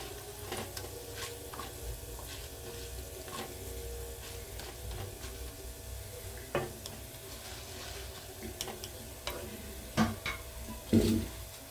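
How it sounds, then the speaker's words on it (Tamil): Tamarind sautéing in a pan for spicy kara chutney, a steady close sizzle with scattered scraping stir strokes and a few louder clatters near the end, no talking. "புளி ஒரு சின்ன உருண்டை சேர்த்துக்குவோம். நல்லா வதக்கலாம்."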